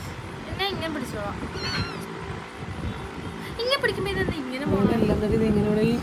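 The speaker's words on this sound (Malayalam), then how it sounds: "ഇതാണ് ഞാൻ പറഞ്ഞ രണ്ട് കുഞ്ഞു പൂച്ചകള്" Two small kittens meow in a family home, thin high mews scattered across the stretch, fairly close, under steady talking and background household noise.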